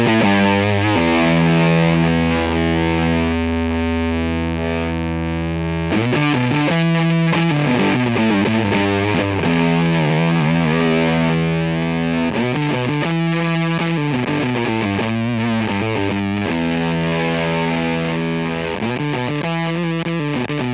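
A Facer fuzz guitar pedal set to maximum fuzz while its bias is adjusted. Thick, heavily distorted guitar chords and notes sustain loudly and alone, with the texture shifting as the bias changes.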